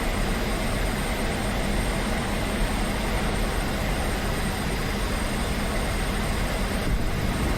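Jet engine at full throttle in a 1950s air combat flight game with MiG-15 and F-104 jets, a steady, dense roar that holds constant and loud throughout with no pauses or talking.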